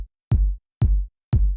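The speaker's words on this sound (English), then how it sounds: "and this thud 808." Thud-style 808 kick drum: three evenly spaced, punchy low hits with a crisp attack and short, round decays cut off before the next strike, loud and alone.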